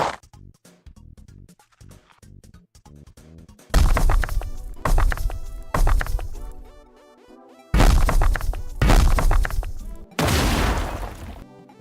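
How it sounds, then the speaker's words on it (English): Downloaded explosion sound effects played for a game in development: a run of quick clicks, then several loud booming blasts with crashing debris, each bursting in suddenly and cutting off, separated by brief gaps. "Oh, did I also download that explosion one?"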